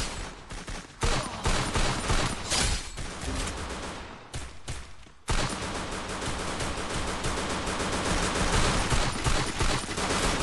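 Dense, sustained bursts of rapid gunfire with brief pauses, loud and continuous, like an intense firefight from a game.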